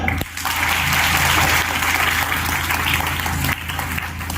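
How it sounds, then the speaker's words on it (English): An audience at a talk on startup benefits and women's entrepreneurship claps steadily for several seconds, a dense, even wash of hands that fades out near the end. "Please clap for them."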